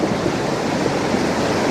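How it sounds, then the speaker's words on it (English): Flash-flood water rushing along a mountain stream beside homes in Glen Haven near Estes Park, Colorado, a loud, steady, dense roar of churning water with no voices. "All this water being channeled into these small little areas."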